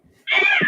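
A cat gives a single short, close meow after a brief quiet moment.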